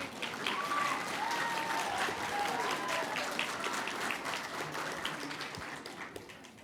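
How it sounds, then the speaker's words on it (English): At a swim team banquet, children give a sustained round of applause for their parents, a dense crowd clapping that tapers slightly toward the end, heard in a large room. "I'd like to have all the kids give a big round of applause to your parents."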